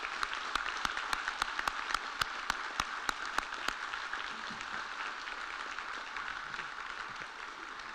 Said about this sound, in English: Can I have a huge round of applause for them today too?